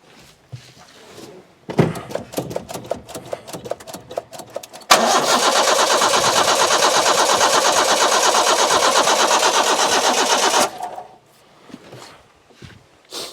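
An abandoned carbureted van engine cranks for a few seconds with rhythmic starter churning, then catches and runs loudly and steadily at a fast idle before cutting off, leaving quiet rustling and footsteps nearby.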